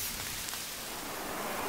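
Steady rain hisses down in Arma 3 Exile, a dense, even wash of noise at low volume with no break throughout.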